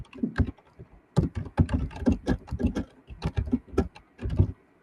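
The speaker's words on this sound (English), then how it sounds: "Somebody typing." Someone typing on a computer keyboard nearby, rapid irregular bursts of key clicks with short pauses between runs, heard alone without talk.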